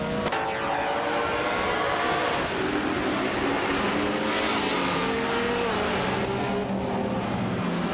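Racing cars in a video game led by a classic 1959 Aston Martin DBR4/250 at the Shanghai circuit: a loud, continuous engine roar with rising and shifting pitch, dense and close, with no talk.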